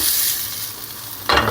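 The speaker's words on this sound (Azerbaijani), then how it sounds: "Qəşəng qızardırıq bunu." Food fries loudly in a pan for a simple lunch dish, a close, steady sizzle with stirring, then a sharper burst of hissing near the end, with no voices.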